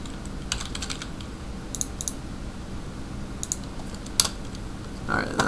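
Typing on a computer keyboard while setting up Minecraft server permissions: sparse clusters of light key clicks with pauses between them, close and fairly quiet over faint background hiss.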